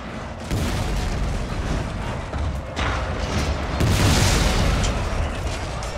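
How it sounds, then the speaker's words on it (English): Cannon artillery bombardment in Shogun 2: Total War, about twenty guns pounding a snowy castle: repeated heavy booms land one after another, loud and rumbling, building to a bigger blast near the end. "Plus the 8 on the other side, so 20 guns. All pounding on here."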